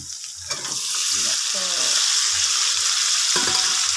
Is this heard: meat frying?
yes